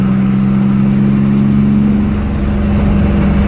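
Loud, steady engine drone from a running car, with a strong low hum held throughout and no talk.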